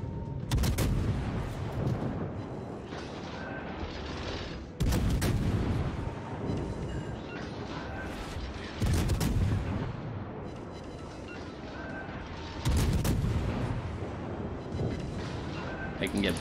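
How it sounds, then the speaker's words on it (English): Naval gunfire in the World of Warships video game: four heavy booming salvos spaced a few seconds apart, each a loud sharp blast fading into a rumble, with a player talking between them. "why are you shooting at him?"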